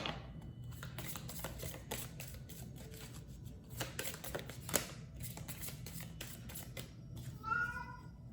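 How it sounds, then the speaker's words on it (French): A house cat gives a brief meow near the end, heard over scattered light tapping and shuffling noises in a quiet room. "je suis désolée pour mon chat"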